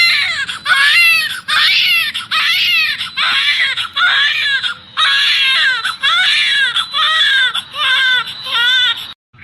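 An infant cries loudly and close by in repeated wailing bursts with short breaths between them, continuing for the whole stretch.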